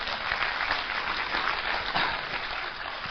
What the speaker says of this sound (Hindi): हम एक बार ताली बजा के देखते हैं